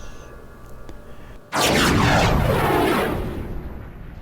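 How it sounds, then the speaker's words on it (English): A single loud rifle shot fired at a possum at night, recorded on a video camera: a sharp crack after a quiet lead-in, then a long rolling echo that slowly fades. "he makes another good shot on a possum"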